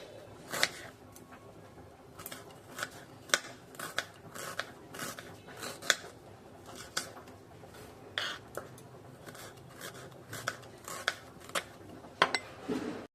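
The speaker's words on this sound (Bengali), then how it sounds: "পেঁয়াজটাকে আমি ঝিরি ঝিরি করে কেটে নেব, একদম মিহি ঝিরি যেটা বলে সেরকম করে পেঁয়াজটাকে কেটে নেব" A knife cuts onion into fine slices on a board, giving a quick, uneven run of crisp chopping taps over a low background for about thirteen seconds, close and fairly quiet, with no talking.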